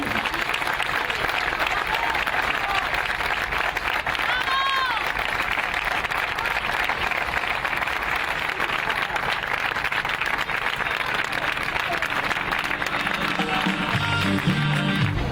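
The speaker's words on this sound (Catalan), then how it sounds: "Vull que rebeu un fort aplaudiment perquè es mereixen tot." Sustained crowd applause in the city of Valencia greets the arrival of a charity walk, a continuous wash of many clapping hands with voices underneath, growing rougher toward the end.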